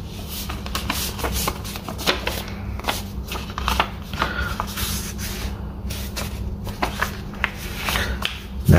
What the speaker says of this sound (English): fold the triangle up and make a half fold.